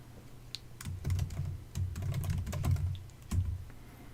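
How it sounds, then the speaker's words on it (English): Rapid keystrokes on a computer keyboard come in a few short bursts with brief gaps, close and fairly quiet, with a low hum running underneath. "it'd help if I could type right"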